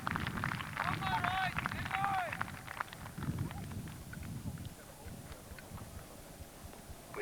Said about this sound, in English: you can clearly hear the sound of the hooves